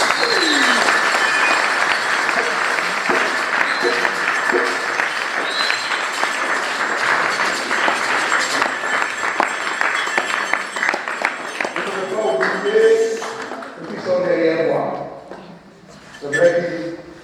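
Audience applauding at a Christmas celebration in Nyassia, sustained clapping that fades out toward the end as voices and other sounds take over.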